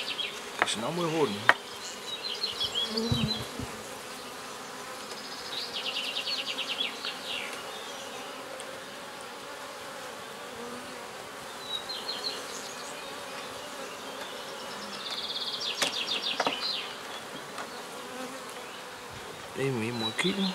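Honeybees buzz steadily around a hive at an open day, a dense, continuous drone that swells louder in a few passes near the listener, with brief faint knocks and little talk.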